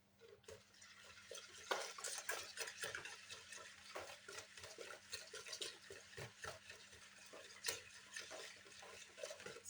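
A whisk or spoon stirs crêpe batter in a bowl, giving faint, continuous wet swishing and soft clinks against the bowl, quiet and close with no speech.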